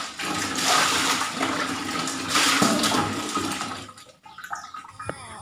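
Chopped young corn being washed under running water, a steady loud gush and splash that cuts off near the end, giving way to a few lighter drips and clatters.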